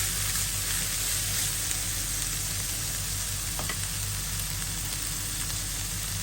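Pork fries in a pan as its fat renders, giving a steady, dense sizzle and crackle that holds evenly from start to finish with no talking.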